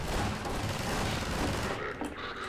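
Heavy gunfire in the Half-Life 2 battle for City 17: loud, dense, continuous shots and booms roll through the whole stretch, easing slightly near the end.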